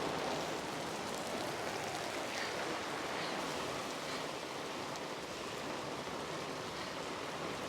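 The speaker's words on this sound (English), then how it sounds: "Yay, the rain's here." Heavy rain pouring down outdoors during an outdoor workout, a dense, steady hiss of rainfall that stays even and fairly close with no voices.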